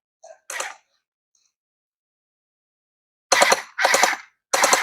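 A toy gel blaster firing gel balls: one short burst, then three louder sharp bursts of rapid snapping shots close by, with silent gaps between them.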